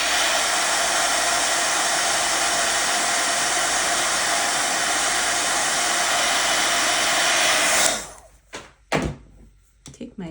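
A hair dryer runs steadily and loudly for about eight seconds while drying watercolor paint in a butterfly journal page, then cuts off, followed by a few soft knocks and handling sounds.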